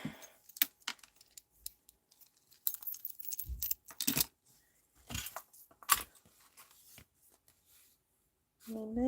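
Scissors drop and clatter on a crafting table while a vintage-style junk journal is being made, giving scattered light metallic clinks and taps among quiet handling noise.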